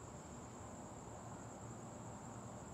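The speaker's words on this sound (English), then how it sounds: "Crickets are going." Crickets chirp outdoors on a night, a steady, continuous high trill that holds faint and unbroken throughout with no voices.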